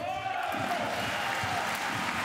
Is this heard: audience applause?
yes